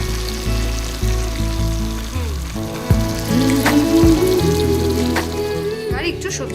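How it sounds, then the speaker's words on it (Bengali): Vegetables sizzle in hot oil in a home kitchen pan, a steady frying hiss running throughout, with voices talking and a few clattering knocks over it. "এবার সবজিগুলো তেলে ছাড়, সাবধানে।"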